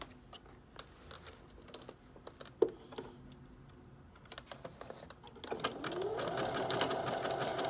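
A sewing machine zigzag stitches a strap onto a medical mask, first a run of separate ticks and clicks as it is set up, then a steady, moderately close mechanical whir of stitching over the last few seconds.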